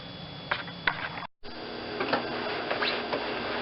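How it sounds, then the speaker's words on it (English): A sewing machine stitches around a hip pocket in bursts of quick mechanical clatter, pausing briefly before resuming, fairly quiet and close, with no voices. "Sew about 1/8 or 1/4 of an inch in from the edge of the fabric all the way around"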